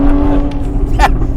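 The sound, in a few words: car passing through a tunnel, sounding like a race car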